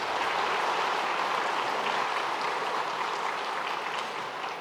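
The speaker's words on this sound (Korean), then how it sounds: "큰 박수로 따뜻하게" A church congregation at a Sunday worship service applauds warmly in a steady, dense wash of clapping that holds for several seconds and eases slightly at the end, with no talking.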